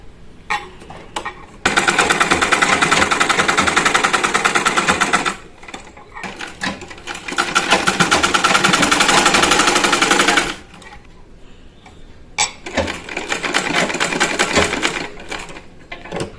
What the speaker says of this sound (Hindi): अब हम यहाँ पर इस तरह से रखकर स्ट्रेट स्टिचिंग लगा लेंगे।